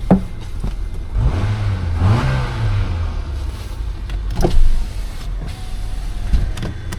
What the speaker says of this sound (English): A little bit of rev.